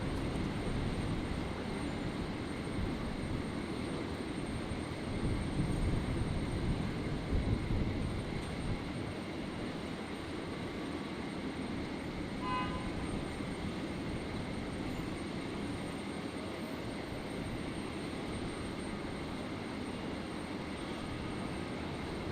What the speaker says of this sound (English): the Emirates A380, being moved from the remote stand into gate 73